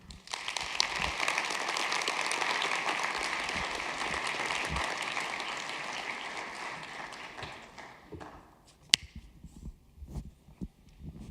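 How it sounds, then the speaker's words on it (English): An audience at the close of a talk on the benefits cliff applauds in a steady, dense wash of clapping that slowly thins out, leaving scattered claps and room noise near the end. "We're at the very end, so just keep clapping."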